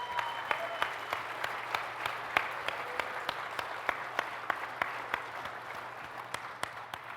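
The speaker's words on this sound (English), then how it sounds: "I would like to give a big round of applause for the team that won just a couple of minutes ago." Crowd applause for tournament winners at the EVE Vegas 2019 closing ceremony, a steady wash of clapping in a large hall with sharp rhythmic claps standing out close by throughout.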